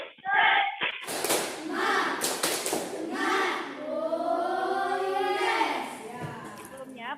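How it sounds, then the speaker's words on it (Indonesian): Indonesian schoolchildren in a classroom doing a rhythmic 'tepuk semangat' spirit clap: sharp group claps in quick patterned bursts early on, followed by children chanting together loudly. "Tepuk semangat."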